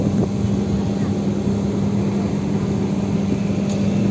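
A ship's engine running at a port during unloading: a loud, steady low drone with a constant hum that holds without change throughout.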